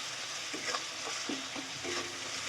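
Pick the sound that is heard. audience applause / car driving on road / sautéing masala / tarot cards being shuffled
sautéing masala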